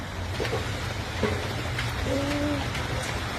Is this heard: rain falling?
yes